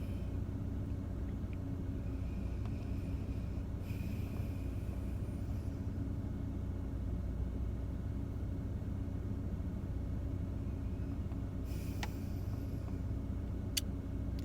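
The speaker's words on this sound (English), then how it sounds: "This car's gonna pull forward." A car engine rumbles low and steady throughout as the vehicle idles and eases forward, with a couple of faint clicks and brief higher noises near the middle and end.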